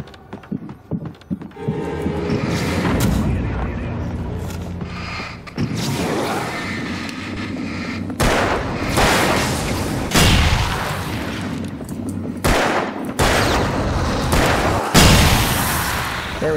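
Barrels exploding in the horror game Alan Wake, set in a mine: repeated loud, booming blasts with sharp onsets around 3, 5.5, 8, 10, 12.5 and 15 seconds, each leaving a dense rumbling, crackling tail.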